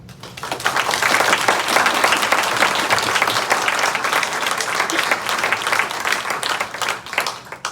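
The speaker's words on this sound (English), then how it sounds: "I'll just give them another round of applause" A meeting audience gives the presenters at a Forsyth County data center forum a loud round of applause, building quickly into a full, sustained wash of clapping that carries on for several seconds.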